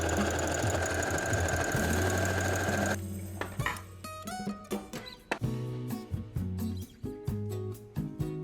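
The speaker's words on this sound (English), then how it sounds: "I'm actually just doing a zigzag stitch since I don't have a serger." A sewing machine runs a zigzag stitch on fabric for a halter neck top, first with a steady continuous whir, then in short close stop-start bursts of stitching.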